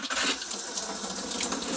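Water gushes steadily from a shower faucet inside a Riverside Retro 135 RV trailer. The rushing flow is close and continuous for the whole moment.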